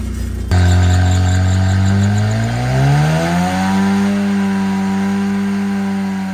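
A Honda Civic's engine revs hard and rises steadily in pitch while a wheel spins, loud and close with a squealing edge throughout, and no talking.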